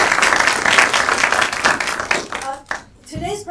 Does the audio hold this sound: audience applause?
yes